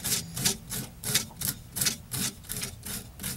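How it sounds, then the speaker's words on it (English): Sandpaper worked by hand over a red cedar bowl gives a steady, rhythmic rasping, about ten even back-and-forth strokes in quick succession, close by and clear, with no voices. "Let me sand this up a little bit more."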